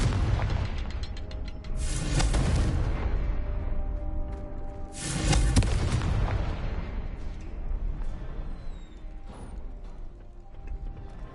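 Two heavy booming blasts of the Confringo fire spell in Hogwarts Legacy, a few seconds apart, each with a bright crackling burst and rumbling tail, amid mechanical creaks and game ambience.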